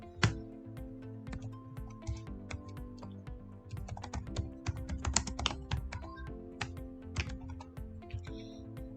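Typing on a computer keyboard while writing Python code, with rapid irregular key clicks close to the microphone, continuing in bursts across the whole stretch with no talking.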